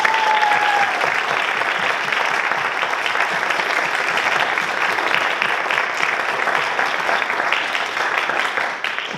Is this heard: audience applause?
yes